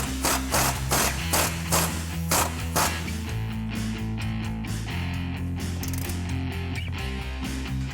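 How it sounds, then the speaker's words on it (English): A ratchet tightens the 19mm nut and bolt on a strut of a 2014-2016 Ford F-150 4WD being fitted with an Eibach Pro-Truck Sport shock kit. It gives rapid, evenly spaced clicks close up over a low steady hum, with no talking. "Tighten up the 19mm nut and bolt on the strut."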